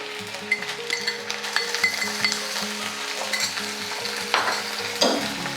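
Garlic and green chillies fry in oil in a pan for a pickle, giving a steady close sizzle broken by frequent scraping and clinking as a spoon stirs the pan.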